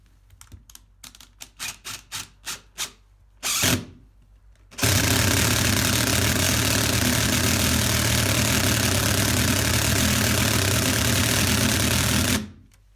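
A DeWALT DCF887 cordless impact driver gives several short pulsed bursts, then a sustained loud whirring hammering run of about eight seconds that stops abruptly, close and alone with no talk.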